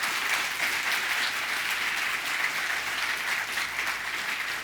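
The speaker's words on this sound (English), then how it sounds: "Another round of applause for all of you." An audience at an astronaut scholar technical conference applauds steadily, a dense, even clapping that continues throughout with no break.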